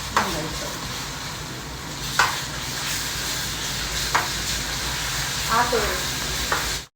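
Ginger-garlic paste sizzles steadily in a hot oiled pan while preparing chicken fry, with a few scraping stirs of a spoon cutting through the close, continuous frying hiss.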